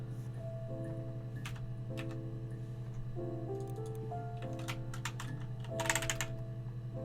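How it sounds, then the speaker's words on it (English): A computer keyboard clatters under rapid, mashed keystrokes, a dense scatter of quiet clicks and a finger sweep across the keys, layered over a steady electrical hum and tonal game music. "when you mash your keyboard, it only like... Here's me sliding my finger through like all the keys."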